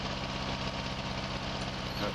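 A Major tractor engine idles in a 1953-set farming game, a steady, close, throbbing low drone, with speech over it.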